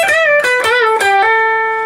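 Clean electric guitar plays a short riff from a song, plucked notes with bends and releases, finishing on a sustained, ringing note.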